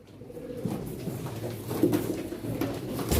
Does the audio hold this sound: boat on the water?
no